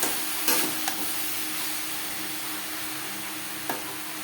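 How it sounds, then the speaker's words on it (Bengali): Bottle gourd stirred in a pan with salt and turmeric, a soft steady frying hiss broken by a few sharp utensil scrapes and taps against the pan. "লবণ হলুদ লাউর সাথে বেশ ভালো করে মিক্স করে দেবো"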